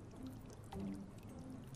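Water drips and trickles steadily through a leaky jail cell in the game Return to Monkey Island, a soft continuous pouring sound with a brief louder splash midway, heard alone without voices.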